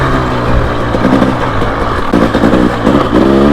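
A KTM dual sport motorcycle rides single track at dusk, its engine loud and close throughout with constant revving and quick throttle bursts alone, with no talk.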